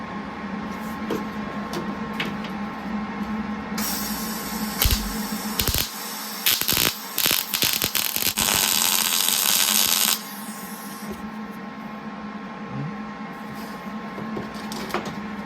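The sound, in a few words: spot welding rusted window channel, 1969 Trans Am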